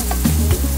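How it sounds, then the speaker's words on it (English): Beef frying in a pan on a home stove gives a close, steady sizzle, with a couple of soft stirring scrapes over the short stretch and no talk. "I'm gonna go ahead and cook the beef first."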